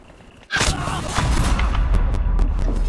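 A single gunshot fires in the video game Cuisine Royale: a sudden loud blast that leaves a rumbling, noisy tail with a few faint sharp clicks, and nothing else is heard.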